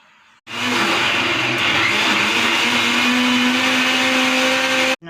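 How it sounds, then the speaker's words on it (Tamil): A kitchen mixer grinder whirs into life and grinds a sautéed coconut mixture into paste for an egg gravy. The loud, steady motor drone runs for several seconds, then cuts off abruptly. "அதை இப்போ மிக்சியில் போட்டு அரைக்க போகிறாங்க."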